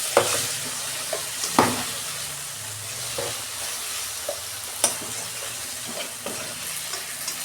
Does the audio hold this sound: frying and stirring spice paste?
yes